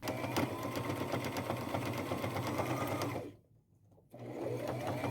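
Sewing machine stitching lace pieces onto a blouse, a loud, steady, close-up mechanical whir that stops briefly near the end and then resumes.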